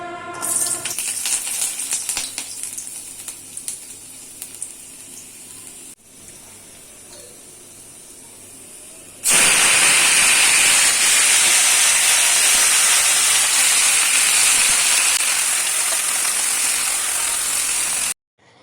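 Water spinach (kalmi greens) dropped into a hot pan with dried chili and garlic, first quiet clatter and handling, then a sudden loud, steady hiss of frying that holds for several seconds before cutting off.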